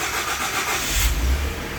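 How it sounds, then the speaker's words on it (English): A pickup truck engine starts up, its low rumble swelling out of background noise partway through and then holding at a steady idle, moderately loud and nearby. "as Steve starts his truck"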